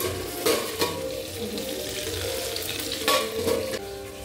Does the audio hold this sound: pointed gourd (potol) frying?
yes